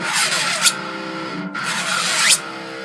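A Tortex flat-top guitar pick slides along wound strings twice, each a long rasping scrape that rises in pitch and ends with a sharp squeal, separated by a brief pause, close and clear.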